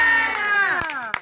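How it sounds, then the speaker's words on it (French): A church congregation at an evening service shouts together loudly in a sustained, falling collective cry, with sharp claps or thumps breaking through near the end. "Aide-moi à crier fort pour dire Amen."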